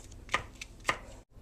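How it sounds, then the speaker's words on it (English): A knife rough-chops vegetables for spaghetti sauce on a cutting board, making three or four sharp, close thuds spaced unevenly over a quiet room background. "Now I'm going to do what's called a rough chop"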